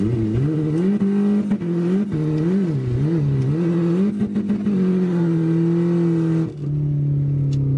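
A BMW accelerates hard past the listener. Its engine climbs and dips through several revving pulls, then settles into a steady loud drone before fading off near the end. The sound is close and dominant, with no speech.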